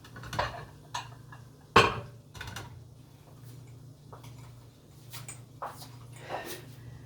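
Serving bowls being handled in a home kitchen, with a few sharp ceramic clinks and knocks scattered across the moment, one louder clack near the start, over a low steady hum.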